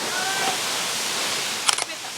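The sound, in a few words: waterfall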